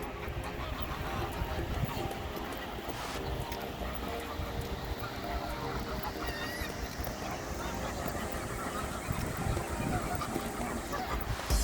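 Geese honk at a goose crossing in Scotland, repeated calls blending into busy outdoor background noise, with people talking nearby.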